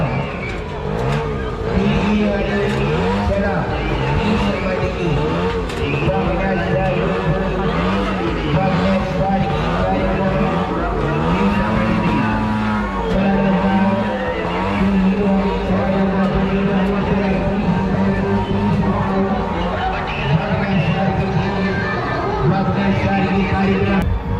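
Two motorbikes circle inside a well of death at the Dahanu Mahalaxmi Jatra fair, their engines droning loud and continuous with a whine that rises and falls as they loop, over a background of crowd noise.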